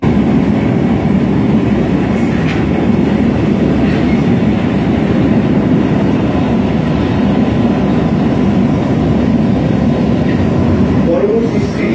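A Kolkata metro train running from New Garia toward Ruby gives off a loud, continuous rumble and rattle from inside the carriage, steady throughout with faint clicking along the rails.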